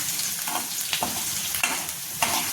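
Green chilies fry over a low flame, giving a soft continuous sizzle with light stirring scrapes and occasional pops, fairly quiet and close, with no talk.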